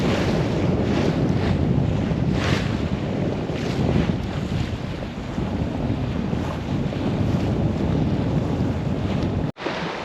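Strong, unstable wind roars steadily across the microphone on open water while sailing off Scotland, with a broadband rush and a faint wash of waves beneath, no voices.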